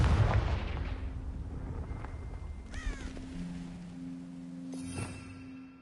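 A Confringo blasting spell fires in the Hogwarts Legacy video game: a loud explosive burst with crackling and rumbling, then a shrill whooshing flourish and a fading tonal hum.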